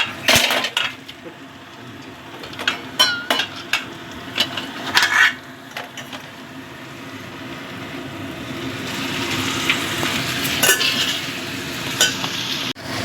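Spiced masala for a pomfret and onion curry stirs and sizzles in a hot pan as water is added, with a spoon scraping and clinking against the metal and a steady frying hiss throughout.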